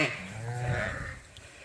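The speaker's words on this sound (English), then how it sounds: "These are all 90-some, 100-some ewes." Ewes in a crowded farm pen let out a bleat at close range, followed by softer shuffling and faint background noise.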